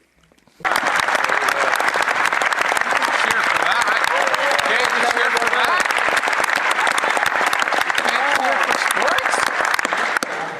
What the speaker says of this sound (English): I would have thought that clapping for sport was Canadian in a way